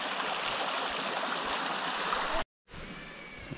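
A mountain river rushes steadily over rocks on a hiking trail, a dense, continuous wash of flowing water at close range that cuts out briefly near the end before resuming.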